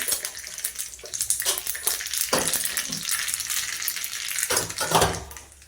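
Cumin and mustard seeds sizzle and crackle in hot oil for a tadka, with a dense, loud, continuous frying hiss and bursts of spattering, close by with no talking.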